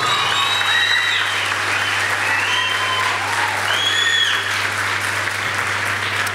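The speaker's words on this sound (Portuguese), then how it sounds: "Pode aplaudir o Senhor." Audience at a youth motivational church service breaks into sustained applause, a dense continuous wash of clapping with faint voices and whistles mixed in, steady and loud throughout with a low hum underneath.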